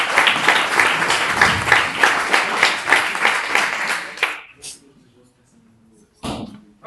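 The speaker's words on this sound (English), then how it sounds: "Round of applause" Workshop audience applauding for about four seconds, a dense, steady clatter of many hands that fades out, followed by near silence and a brief bump of noise.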